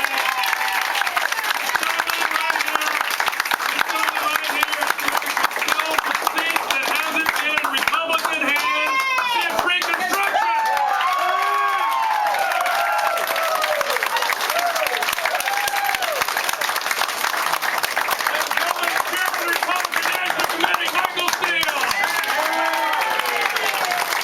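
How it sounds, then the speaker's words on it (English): Sustained loud applause from a crowd at a political event honoring a guest speaker, RNC Chairman Michael Steele, in a Virginia victory office, with scattered cheers and voices mixed into the clapping. "give one more round of applause for this gentleman right here"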